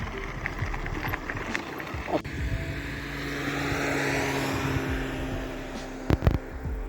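A motorcycle cruising along a highway with a steady, fairly faint engine drone and wind rush, a couple of brief knocks near the start and end.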